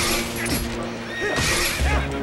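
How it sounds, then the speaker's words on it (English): A horse in the Zelda: Twilight Princess video game lets out a loud, close whinny that rises and trails off, set over steady in-game background sound. "Hey, don't be picking on my horse now."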